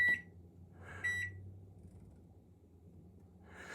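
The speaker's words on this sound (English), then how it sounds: "Put it in a microwave." A microwave oven cooking an Oreo mug cake beeps twice as it starts, then hums with a low steady rumble, close and alone, before a fainter whir at the end.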